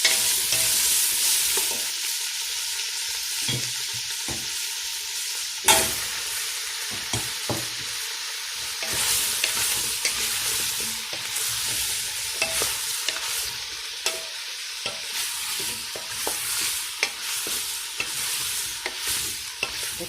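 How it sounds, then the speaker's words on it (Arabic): Onions sizzle steadily in a pot while a spoon scrapes and stirs through them in irregular clinks and taps, close and continuous, with no one talking. "نبقى خويا البصل."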